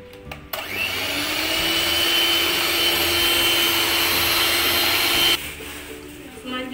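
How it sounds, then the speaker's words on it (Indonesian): Electric hand mixer beating stiff egg whites into moringa cake batter, a loud steady whirring drone that starts abruptly after a moment and runs continuously for about five seconds before cutting off. "Lalu kita mixer kembali"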